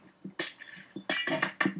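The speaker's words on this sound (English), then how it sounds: "That's all I can hear is smash, smash. I love that noise. It's the sound of destruction." Glass blocks smashing in Minecraft, a burst of bright crashing shatters repeated several times in quick succession over about two seconds, loud and close with no talking.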